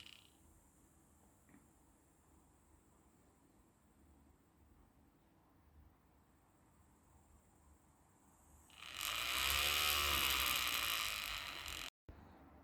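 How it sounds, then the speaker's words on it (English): Homemade magnetic stirrer motor whirring faintly at first, then revving up into a louder buzzing whine that eases slightly before a brief cutout near the end. "And if we turn it on, we can see that it works. And we can control the speed of the motor."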